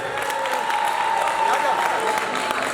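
An audience at a Somali Bantu festival award distribution claps steadily for a trucking company recipient, full and close, with faint voices mixed in.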